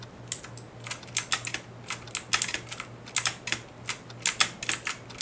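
Computer keyboard keys and a spacebar clatter in fast, uneven bursts of close, sharp clicks while playing a Roblox flood escape game, with a faint steady low hum underneath.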